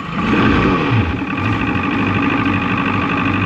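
An Evinrude 90hp FICHT outboard engine runs loud and close with a steady, slightly rough idle rumble and a brief rise in revs near the start, no voices over it.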